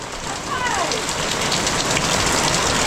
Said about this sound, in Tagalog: Lakas na ulan, lakas na ulan.